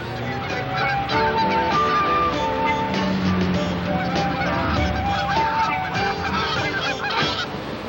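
A flock of geese honks repeatedly in overlapping calls, loud and dense, mixed with continuous background noise throughout.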